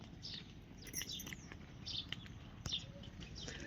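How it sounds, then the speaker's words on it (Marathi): Sparrows chirp and twitter repeatedly in the morning, quick bright calls scattered over a faint background hum, moderately distant. "चिमण्या पाखरं सकाळची अशी सगळी हे करतात"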